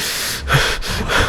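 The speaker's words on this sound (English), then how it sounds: "Uncomfortable breathing." A man breathes heavily and uncomfortably, with close, loud, rough exhales and snorting gasps in a few uneven bursts.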